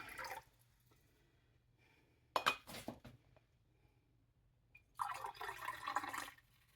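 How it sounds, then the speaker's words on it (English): Water is poured from a pitcher into pots of turkey stock in a home kitchen, with short splashing pours separated by quiet gaps, plus a soft clink between them. "I'm going to top all of these off with this little bit of water"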